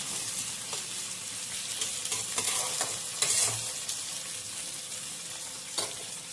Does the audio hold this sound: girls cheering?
no